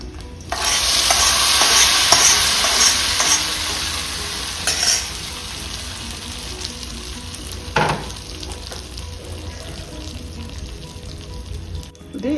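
A fried mixture being stirred into chutney, starting with a loud sizzling rush that settles into softer scraping and stirring, with a single sharp knock near the end.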